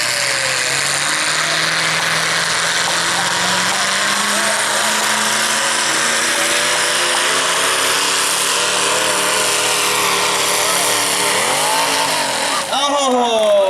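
Modified mini tractor with a 350 Chevy engine roars continuously at high revs as it pulls down the track at a prairie tractor pull, engine pitch climbing and straining, then faltering near the end amid crowd noise.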